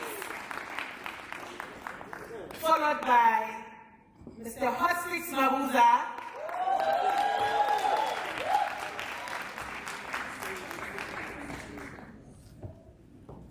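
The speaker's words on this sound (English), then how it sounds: "Another round of applause, please." Audience at a colloquium on South Africa's 30 years of freedom applauds panelists in bursts, with a presenter speaking between and over the clapping in a large hall.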